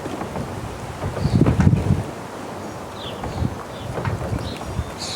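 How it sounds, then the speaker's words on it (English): Gusty wind buffeting the microphone outdoors, with low rumbling swells that rise and fall, strongest in a burst near the start. "it's quite windy today"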